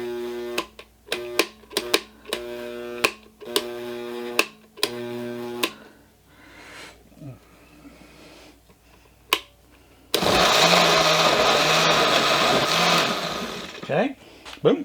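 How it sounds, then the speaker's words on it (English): Brand new blender pulsing tomatoes for salsa: a series of short, loud motor bursts in an uneven rhythm, then a quiet gap and a long continuous whir near the end. "This is a brand new blender. I got all the tomatoes in here that I'm going to work with,"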